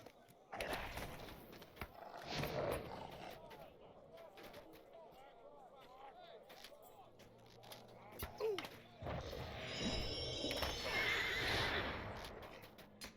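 A horse in the video game LOTRO whinnies loudly in a few bursts while hooves clip-clop, marking the horse leveling up. A person talks over parts of it.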